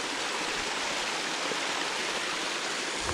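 Stream water flowing along the Old George Dam circle route, a steady broadband rush and gurgle at moderate level, continuous and unbroken with no voices.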